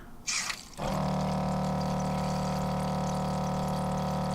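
Water rushing through an RV water filtration system, a Clearsource Ultra Mini, as the flow is switched back on: a short hiss and splash, then a steady, even stream with a faint hum, heard alone.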